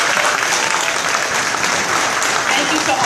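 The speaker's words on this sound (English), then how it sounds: "if you want to give a round of applause to our chefs one last time" A crowd at a chef competition event claps in dense, steady applause for the chefs, loud and unbroken throughout, with faint voices underneath.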